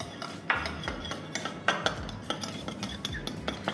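Dry rub of salt, pepper, garlic powder and paprika stirred in a bowl, quick close scraping and clinking of a utensil against the dish in an irregular rhythm, fairly faint, with no talk.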